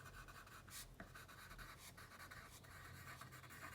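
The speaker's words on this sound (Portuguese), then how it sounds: "Então, eu vou escrever aqui." A pen or pencil writes math notes by hand in a quiet room. It makes faint, close scratching strokes in short bursts, with no speech.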